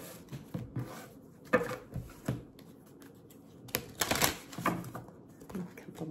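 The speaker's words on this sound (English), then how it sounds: "A couple more shuffles." Cards riffle and snap in a few quick bursts of shuffling, with quieter handling noises in between.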